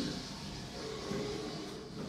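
Lift doors at a car park slide shut with a soft, steady mechanical rumble, fairly quiet and continuous over a couple of seconds with no talk.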